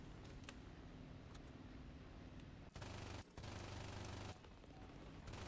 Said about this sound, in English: my tail gunner is already starting to fire